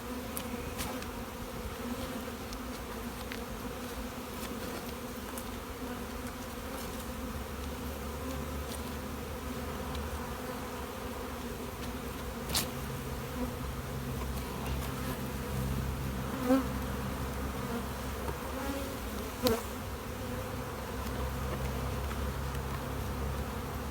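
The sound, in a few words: honey bees buzzing around open hive boxes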